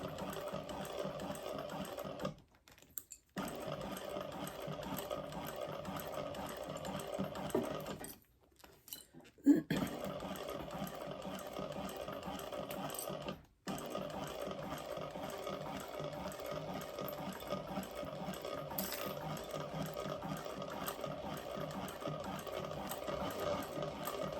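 Close up, a sewing machine top stitches a fabric bag, its motor and needle buzzing steadily with three short stops where it falls silent before starting again.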